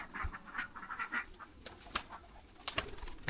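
Racing pigeons gathered on entry day for a 400-kilometre race coo and call in short, repeated bursts nearby, with a few sharp rustles and thumps in between.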